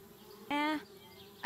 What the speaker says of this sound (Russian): Злые пчелы хотят пробраться в наш дом на дереве.